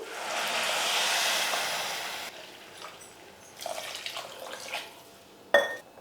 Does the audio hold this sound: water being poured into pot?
yes